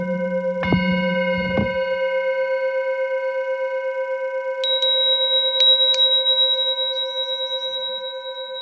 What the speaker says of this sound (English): I'm going to hit that gong for you again.